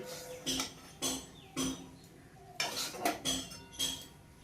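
A spoon scraping a cooking pan while lifting kuli pitha filling onto a lid, six distinct metallic scrapes and clinks in an uneven rhythm, close and clear with quiet pauses between.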